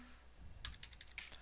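A short, quiet burst of typing on a computer keyboard, a quick run of soft clicking keystrokes close by in an otherwise still room.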